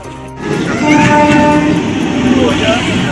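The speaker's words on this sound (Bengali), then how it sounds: "ট্রেন চলে এসছে" A train arrives close by, its wheels grinding and squealing on the rails, with a low steady roar and faint voices in the background.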